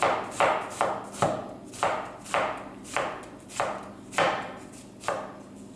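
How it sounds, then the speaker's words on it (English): A knife chops through artichoke on a cutting board in steady, evenly spaced strokes, about a dozen crisp thuds up close with no talking. "So we're going to just chop it a little more."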